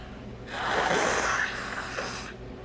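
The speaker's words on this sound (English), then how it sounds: "I gotta blow my nose" A person blows their nose once, a close, breathy two-second honk that trails off.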